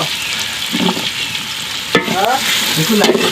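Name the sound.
onions frying in a pan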